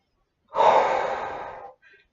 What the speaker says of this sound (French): Une troisième et dernière fois, tranquillement, je souffle.